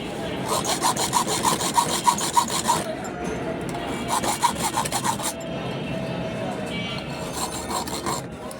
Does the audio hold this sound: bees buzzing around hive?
no